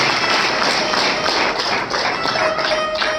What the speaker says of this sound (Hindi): अपने लिए जोरदार ताली बजा दें